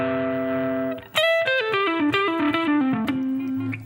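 A sustained chord rings before a distorted electric guitar runs a quick descending pentatonic line over a major seventh harmony, with clear single notes that settle onto a held low tone.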